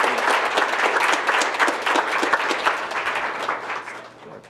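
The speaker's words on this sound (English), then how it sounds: "give them a big round of applause" Lively audience applause at a meetup, individual hand claps distinct within a close, energetic round that stays loud before tapering slightly near the end.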